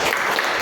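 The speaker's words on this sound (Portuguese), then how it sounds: "Você pode sentar aplaudindo a Jesus." Church congregation applauding at the close of a Sunday worship service, a brief, dense burst of steady clapping throughout.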